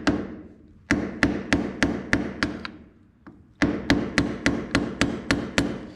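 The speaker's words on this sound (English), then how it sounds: "take a screwdriver or something and just tap off this cap" A screwdriver tapping off the hub cap on a 1970 Minneapolis Moline U302 tractor front spindle: crisp metallic strikes in two rapid bursts of about six and nine taps, separated by a brief pause, loud and close.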